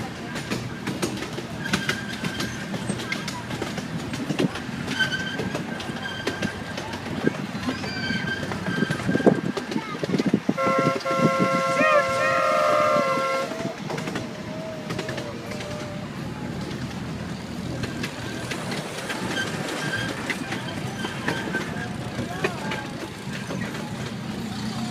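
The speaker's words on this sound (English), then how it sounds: "We're coming back into the train station." A small amusement park ride train at Bay Beach rolls slowly back into its station, wheels clicking and rumbling under steady mechanical noise, with a brief tonal squeal midway and faint background voices.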